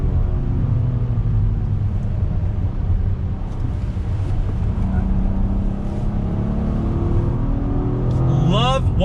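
A 2020 Acura TLX A-Spec PMC Edition with a 290-horsepower V6 accelerates, its engine drone and rising harmonics steady under wind and road noise, climbing sharply in pitch near the end.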